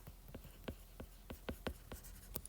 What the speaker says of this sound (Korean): 여기다가 한번 써볼게요